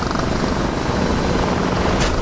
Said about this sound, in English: I can hear another helicopter.